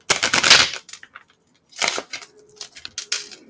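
A thick card stock tarot deck being shuffled gives bursts of crisp riffling and flapping card noise, one long burst, then a pause, then several shorter riffles close up.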